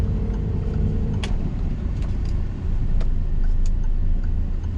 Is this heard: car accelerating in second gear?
yes